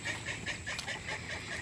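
Ducks near an overflowing swale quack in a quick, repeated run of nasal calls, fairly close, with no voices.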